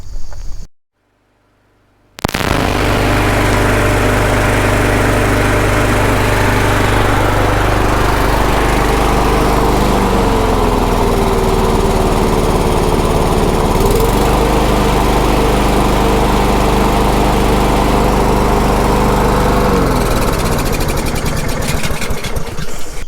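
A small gasoline engine runs steadily after a choke repair. It starts abruptly after a brief quiet gap, then holds a loud, close, buzzing drone with slight pitch shifts as its speed changes, and no talking.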